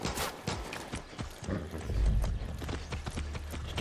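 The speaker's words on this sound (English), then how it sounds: "The horse belongs to me." Horse hooves clip-clopping in the video game Far Cry 6, a quick irregular run of sharp hoof strikes over a low background rumble, with no voices.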